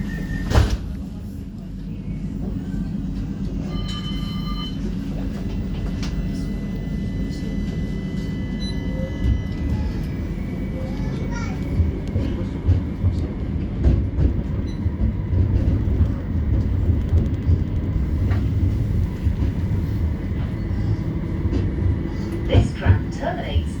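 West Midlands Metro tram departing, a steady low rumble of motor and wheels building as it pulls away, with a door chime and automated announcements heard over the running noise.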